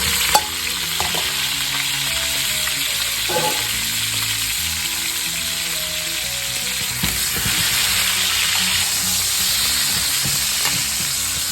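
Pre-boiled chicken drumsticks fry with garlic for chicken adobo, a steady loud sizzle with occasional stirring clatter and utensil scrapes close by.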